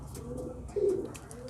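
Homing pigeons, a bred flying breed, give a short soft coo standing out briefly from steady background noise, close and fairly faint.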